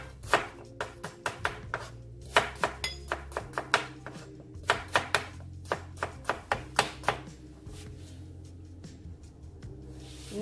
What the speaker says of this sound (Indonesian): Terus ada serai, lengkuas juga dipotong semua.